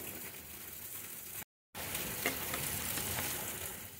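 Dahi vada lentil dumplings fry in hot oil with a steady, dense sizzle and crackle, close and continuous, broken only by a brief moment of silence.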